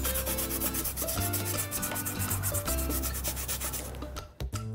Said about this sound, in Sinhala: චුට්ටක් ග්‍රයින්ඩ් කරන්න.